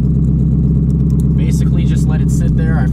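A Ford Mustang V8 fitted with a Holley Sniper system held at high revs, a loud, steady engine drone with someone talking over it.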